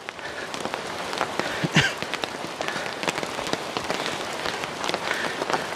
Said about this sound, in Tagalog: parang butil ng ice yung patak ng ulan